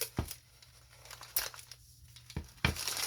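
Newspaper crinkles softly while strips of tape are pulled and torn in a few sharp bursts, close and quiet, with no talking.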